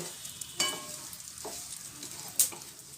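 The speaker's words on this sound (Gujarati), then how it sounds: "ગુંદર ફૂલવાનો અવાજ આવે છે" Edible gum (gond) frying in ghee, giving a soft steady sizzle with a couple of brief sharp crackles as it puffs up.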